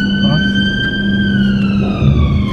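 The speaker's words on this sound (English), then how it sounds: "I'm just letting an ambulance." A loud ambulance siren on a London street wails close by in a steady, slowly falling tone as it passes, over traffic noise.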